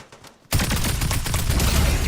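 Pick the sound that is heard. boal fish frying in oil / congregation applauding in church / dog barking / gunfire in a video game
gunfire in a video game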